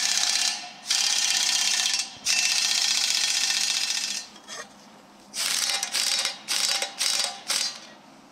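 An impact wrench tightens bolts on a John Deere quick hitch, firing in several loud buzzing bursts of a second or more, separated by short pauses, with a quicker run of choppy bursts near the end.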